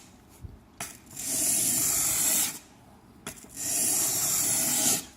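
A knife blade is drawn along the 400 grit side of a sharpening stone in two long, close, hissing grinding strokes separated by a short pause, with light taps at the start.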